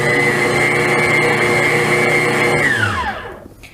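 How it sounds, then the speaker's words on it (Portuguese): An electric stand mixer runs on its lowest speed while blending chocolate cake batter with flour, giving a loud steady motor whine and hum that winds down and stops near the end. "vamos ligar a batedeira na posição mínima e misturar"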